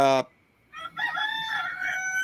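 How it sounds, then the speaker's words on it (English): A rooster gives a short, loud crow among chickens, followed after a brief pause by a longer, warbling crow. "somebody got chickens."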